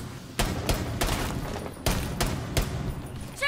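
Gunfire in the Rainbow Six Siege video game, with several sharp, loud shots in quick irregular bursts over a low background rumble, close to the listener.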